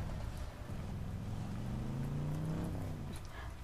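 A car drives in a horror video game, its engine a low, steady hum with a rising tonal whine, heard alone as a continuous faint rumble without speech.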